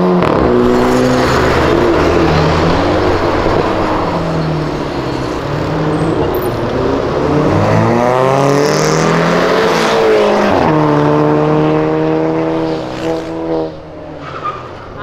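Volkswagen Golf GTI MK5 accelerating away hard, engine note climbing through several gear changes with rising and dropping pitch, loud and close at first, then fading out at the end.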